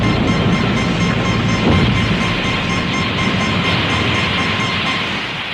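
Road train arriving as an audio drama sound effect, a loud continuous rumbling roar with a steady tonal hum and faint rhythmic clatter, slowly easing toward the end.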